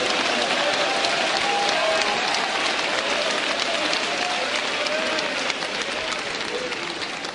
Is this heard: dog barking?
no